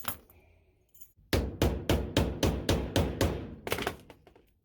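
A hammer sets a copper rivet through a leather belt in about ten sharp, evenly spaced close blows, then two or three quicker taps at the end, with no voices.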